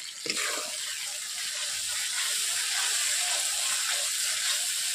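Ground cashew paste stirred in a hot pan while cooking a fish barfi sweet, giving a steady close hiss and sizzle that holds for the whole stretch with no talk.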